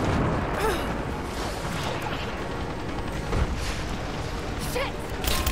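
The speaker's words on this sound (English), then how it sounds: "Great signal, Sophia, to fire that trebuchet." In the game Rise of the Tomb Raider, a trebuchet launches a fireball amid battle, heavy booms and mechanical thuds over dense combat noise and clanking, with voices shouting nearby.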